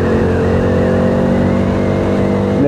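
A Bajaj Dominar 400 motorcycle engine pulls hard after a downshift, a loud close steady drone that holds its pitch with no talking.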